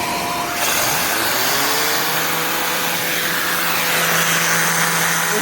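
A Shark Stratos upright vacuum cleaner with DuoClean PowerFins runs in turbo mode, its motor whining up in pitch as it spins up and then holding a loud, steady high-pitched drone with no talking.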